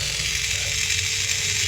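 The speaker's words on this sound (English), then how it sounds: "when we touch this close button, the motor will move clockwise" The small electric motor of an Arduino-controlled smart door lock turns with a close, continuous buzzing whir that stays steady for the whole short stretch, without any voices.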